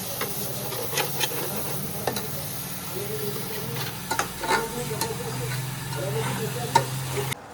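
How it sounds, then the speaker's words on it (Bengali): Coriander-cumin powder masala for a desi chicken curry frying in oil and being stirred, a steady close sizzle broken by repeated scrapes and clinks of the spoon against the pan, with no talk. "দেবো হচ্ছে একটুখানি ধনে জিরে গুঁড়ো, আর এটাকে ভালো করে কষিয়ে নেব।"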